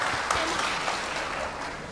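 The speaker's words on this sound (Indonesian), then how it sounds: "Ini hebat, tepuk tangan." An audience applauds in a steady burst of clapping, dense and moderately loud throughout, with a voice faintly beneath it.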